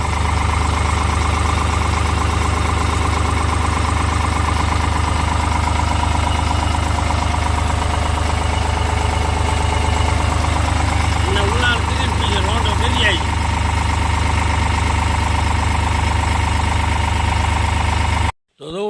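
A tractor engine idles steadily throughout, a constant low rumble with a faint rattle, close by, briefly cutting out at the very end.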